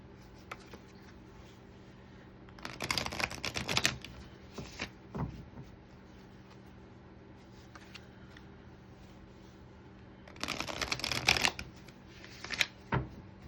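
Tarot advice cards are shuffled in two brisk bursts, close and crisp, with a few lighter card taps and handling sounds in the quiet gaps between.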